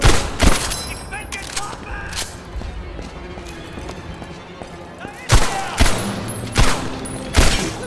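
Gunfire in Medal of Honor Airborne, Operation Neptune, sharp loud shots in bursts at the start and again in a rapid cluster near the end, separated by quieter battle ambience.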